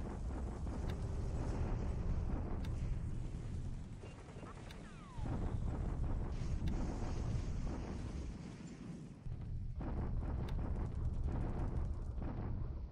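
Bombardment explosions rumble in War in the Pacific, a continuous low roar of heavy blasts with occasional sharper bursts, loud and sustained under faint background talk.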